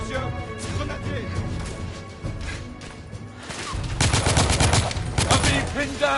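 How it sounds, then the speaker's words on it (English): Gunfire in the video game The Order: 1886 during a suppressing-fire firefight, scattered shots at first, then a dense burst of rapid fire near the end, mixed with voices shouting. "I'm taking suppressing fire!"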